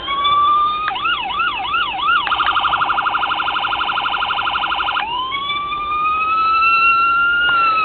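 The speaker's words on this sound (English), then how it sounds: "So you heard the siren." A loud electronic siren from a toy 1:24 diecast Crown Vic police car runs through several modes: a rising-falling wail, a fast pulsing yelp, then a long steady tone.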